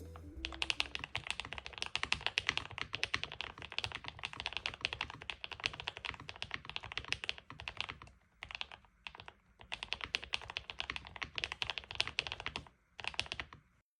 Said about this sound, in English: Here's a sound test with the normal switches.